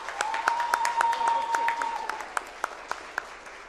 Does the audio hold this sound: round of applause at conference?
yes